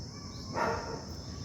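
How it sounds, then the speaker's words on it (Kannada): A single bark from a neighbour's dog, faint and distant, rises briefly over a steady low background hum. "ನಾಯಿ ಬೇರೆ ಬೊಗಳ್ತಾ ಇದೆ, ನಮ್ಮ ಪಕ್ಕದ ಮನೆಯವ್ರದ್ದು."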